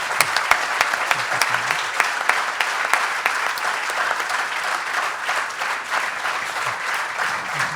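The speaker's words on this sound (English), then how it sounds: "Give a big round of applause for Maharaj." A crowd applauds during a spiritual talk and music event, with dense, sustained clapping and a few sharper individual claps standing out, continuing for several seconds.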